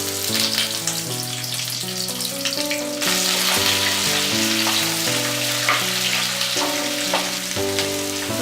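Onion fries in hot oil in a steady, close sizzle under music with a melody. The frying grows louder partway through, and there is no talk.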